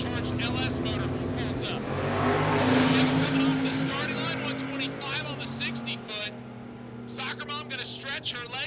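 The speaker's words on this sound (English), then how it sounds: "So it'll be interesting to see how the little turbocharged LS motor holds up." Turbocharged LS-powered drag car launching off the starting line at a Sick Week drag racing event in Bradenton, a loud sustained engine roar across the whole stretch with an announcer talking over it.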